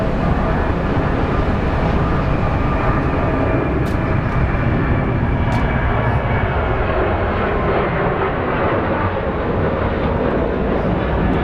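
A jet airliner passes at Phoenix Sky Harbor International Airport, its engine noise a loud, continuous broadband roar that holds steady and close throughout.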